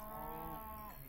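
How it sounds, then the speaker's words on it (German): A cow in Minecraft gives a single long, low moo that wavers slightly toward the end, heard alone and fairly close. "Noch mehr Kühe? Ich höre zumindest welche"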